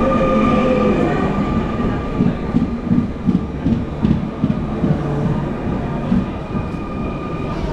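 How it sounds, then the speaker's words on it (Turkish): A double-decker Île-de-France commuter train rolls along near Paris, heard from inside the carriage: a steady loud rumble with rhythmic clickety-clack of wheels over rail joints and faint squeals, no talking. "Binelim trenimize."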